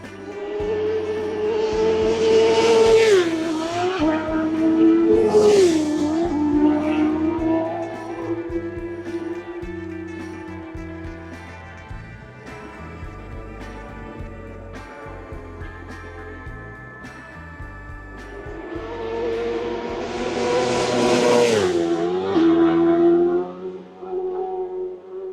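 Isle of Man TT racing motorcycles scream past on a narrow road, two loud passes rising and falling in pitch around five and twenty-two seconds, with a quieter stretch of distant engine noise in between.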